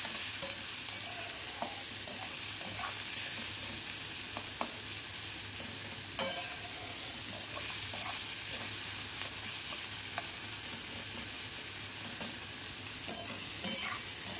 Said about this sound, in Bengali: তো এটাকে এবার ভালো করে ভেজে নিতে হবে।